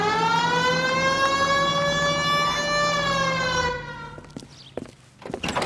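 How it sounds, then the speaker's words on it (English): A police car siren in the video game L.A. Noire wails loud and steady with a rising-falling tone, then cuts off abruptly, leaving scattered clicks and faint car and movement noises. "Hit the siren."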